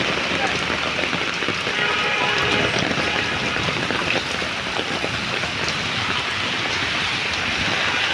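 Heavy rain pours down steadily onto a street filling with flowing water, a loud, dense hiss with patter close by and faint voices talking beneath it.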